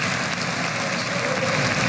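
Steady applause from a large chamber audience during State of the Union coverage, a dense continuous wash of clapping that holds at an even level without a break.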